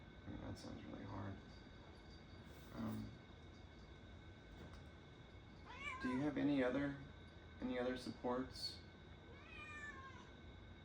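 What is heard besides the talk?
cat meowing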